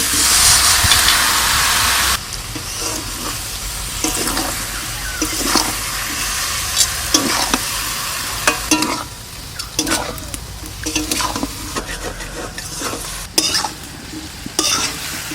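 Taro stolons are stirred into a pan of fried fish, giving a loud, steady sizzle with scraping stir strokes throughout and a brief hiss of liquid hitting hot oil at the start.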